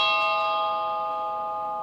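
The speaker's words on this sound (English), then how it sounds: "Regular doorbell sounds." A single bright doorbell chime from a Wyze video doorbell rings out and slowly fades, clear and close, with nothing else around it.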